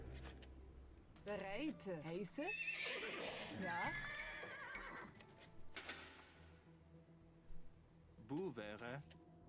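Several horses whinny and neigh in the Age of Empires II strategy game, with shrill wavering calls and clip-clop hooves. Game effects overlap the neighs, a second burst of whinnying comes near the end, and the sound is moderately loud throughout.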